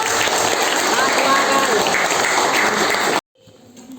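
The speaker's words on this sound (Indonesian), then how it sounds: "tepuk tangan buat" A school audience at a democracy-themed event gives a loud, continuous round of clapping for about three seconds before it cuts off abruptly into near silence.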